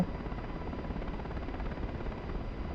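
Helicopter rotor and turbine sound from the DCS flight simulator, flying over the Persian Gulf between a helicopter carrier and an aircraft carrier: a steady, loud, dense drone with fine rapid rotor pulsing, heard alone without talk.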